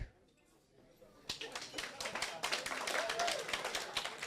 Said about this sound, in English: So round of applause if you're black.